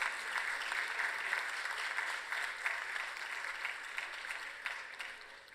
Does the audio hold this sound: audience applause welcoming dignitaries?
yes